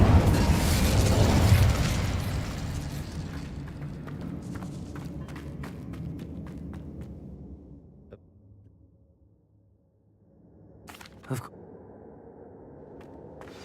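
An Incendio fire spell in Hogwarts Legacy erupts as a loud, roaring burst that fades over several seconds into quiet crackles and clicks, followed by a few faint sharp ticks and a soft thud.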